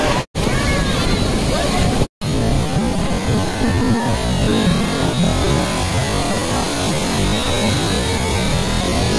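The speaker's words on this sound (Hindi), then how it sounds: "बीच पर आज काफी तेज तूफान है, लहरें ज्यादा है" Storm-driven surf at Juhu beach in Mumbai, a continuous loud roar of crashing waves with heavy wind buffeting the microphone, broken by two brief dropouts, with crowd noise and voices mixed in.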